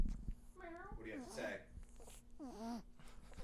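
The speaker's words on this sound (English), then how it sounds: "Shh, let's hear the cat." A congested cat with a snotty nose gives a few drawn-out, wavering meowing cries close by, with a low steady hum underneath.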